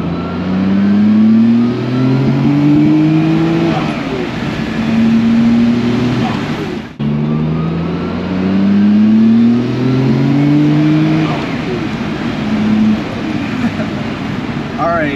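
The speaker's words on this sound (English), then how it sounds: "I like the turbo noises. It's not loud, the car's not loud." A 1994 Nissan Skyline GT-R R32 revs twice in quick succession, its engine pitch rising through each pull with turbo whoosh and flutter audible, moderately loud rather than harsh, with a short break between runs.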